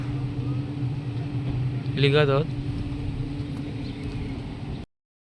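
Highway traffic near Jejuri, by a petrol pump, makes a steady low engine rumble that carries the whole clip. A short burst of speech cuts in partway through.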